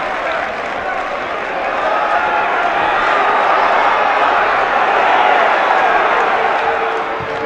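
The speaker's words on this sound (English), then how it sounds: "Listen to that crowd now." A large football crowd at a non-league match roars and claps in a broad, sustained wash of noise that swells toward the middle, heard from within the stands.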